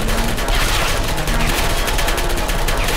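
Turrets in Portal 2 fire a continuous, dense rattle of rapid shots, loud and close, with no pause for the full stretch.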